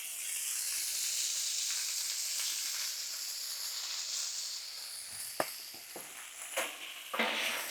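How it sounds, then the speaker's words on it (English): Steak frying on a Blackstone griddle, a steady bright sizzle close up with a few sharp scraping clicks of a spatula toward the end. "Grab up our steak over here and get it to cooking."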